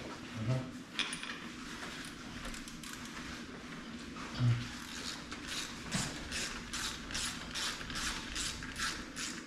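Ratchet wrench with a 9/16 socket tightening bolts on the clutch of a John Deere B tractor, giving a run of quick, close clicking strokes with metallic clanks, and a voice speaking faintly in the background.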